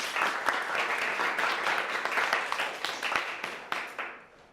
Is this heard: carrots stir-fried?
no